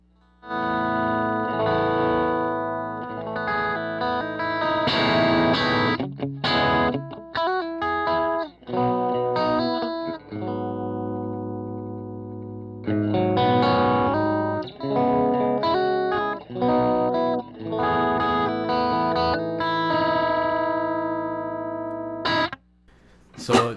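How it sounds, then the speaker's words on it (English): Electric guitar played with a pushed clean split-coil tone and the volume knob rolled back, picking fast melodic runs with short pauses, lightly crunchy and chorus-tinged, loud and close. "what you want to do to get those pushed clean split coil tones is you want to roll the volume knob back"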